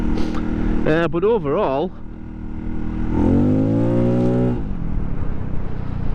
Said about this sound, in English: that exhaust has got that bit of a note to it